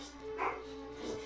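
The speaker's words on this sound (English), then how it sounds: "I'm sure everyone can hear the dog in the background." A dog gives two faint, muffled barks in the background about half a second apart, barely rising above a steady hum.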